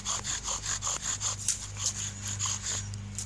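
A wooden bow drill spindle rubs against a wooden fireboard to make friction fire, a steady rhythmic back-and-forth grinding with about two strokes per second, close and continuous, with a low hum underneath and no talking.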